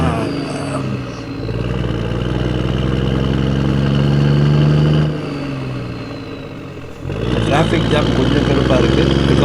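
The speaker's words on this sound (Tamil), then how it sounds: "traffic jam" Vehicles and motorbikes idling in a traffic jam on the road near Manali, a continuous close engine rumble that swells and dips, steady low drone throughout with occasional louder revs.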